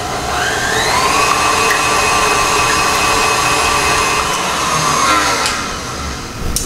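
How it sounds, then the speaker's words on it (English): Egg whites being whisked to stiff peaks, most likely with an electric mixer, a loud, steady, close motor whir with shifting pitch running throughout, no talk. "I'm going to stir this or whisk it until they develop stiff peaks"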